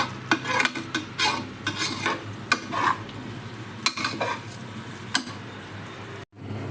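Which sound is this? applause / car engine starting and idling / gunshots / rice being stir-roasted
rice being stir-roasted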